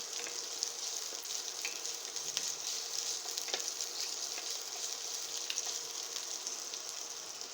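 Onion and garlic frying in olive oil make a soft, even, continuous hiss with a few faint pops, heard fairly distant and quiet with no talking.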